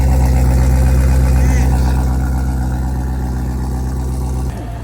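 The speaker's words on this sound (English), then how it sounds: "Bro, do y'all hear that idle?" A catless BMW F30 idles close by with a deep, steady, droning burble and strong low rumble, before its tone drops abruptly near the end; people talk faintly under it.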